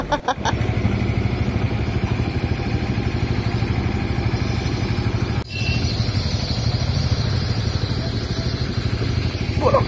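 A motorcycle engine runs steadily throughout with a low, pulsing throb and some clatter, close and loud, dipping briefly midway before continuing.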